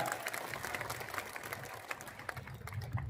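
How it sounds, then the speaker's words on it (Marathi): A crowd at a Congress election campaign rally in Gangakhed claps together, producing a dense, moderately distant patter of applause that holds steady for about three seconds. "एकदा जोरदार टाळ्या."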